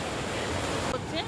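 Sea waves wash up the beach at Digha, a broad, loud, steady roar of surf close by that fills the whole brief moment, with some wind noise.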